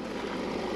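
A motorhome engine idles steadily, a continuous low rumble with an even pulse that stays close and constant throughout, with no talking.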